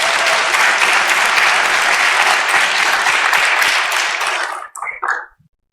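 Audience applause after a working-group progress report, dense and steady for about four and a half seconds before tapering off into a few scattered final claps.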